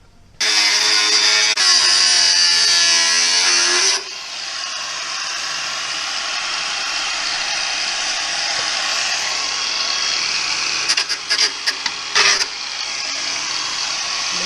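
A petrol-powered grinder runs with a loud, high whine for a few seconds, then drops to a lower steady drone and sputters briefly near the end, during bodywork trimming on an HT Holden.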